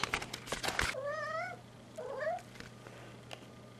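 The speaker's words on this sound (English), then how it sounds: "Was that cat?" A house cat gives two short meows close by, the first a rising cry and the second softer, following a burst of clattering at the start, with a steady low hum underneath.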